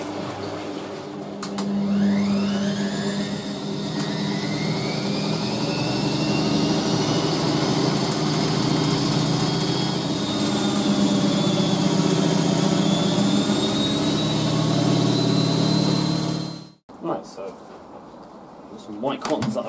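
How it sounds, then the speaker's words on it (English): A Frigidaire FSD28 spin dryer spins a load of white cottons with its lid open, giving a loud, steady motor drone with rising whine tones that runs continuously, then cuts off abruptly near the end, leaving scattered clunks. "I've got the Frigidaire FSD28 spin dryer out here. We're going to be spinning some whites"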